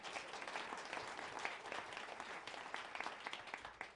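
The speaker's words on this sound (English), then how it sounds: "one person claps for that" Faint clapping in a small radio studio setting, continuous and fairly uniform, quiet and distant-sounding throughout.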